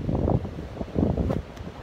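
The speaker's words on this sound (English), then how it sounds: "We were going to do it today, but it's too damn windy." Strong gusty wind blows outdoors near beehive colonies, a steady low roar buffeting the microphone with surging pulses and no voices.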